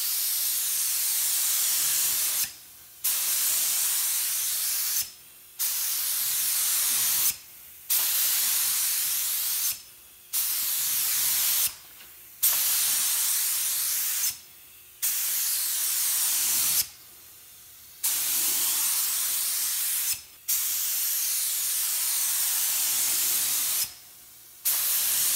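Spray gun laying a clear coat over peeling car paint, in about nine steady, loud bursts of hissing spray broken by short pauses between passes.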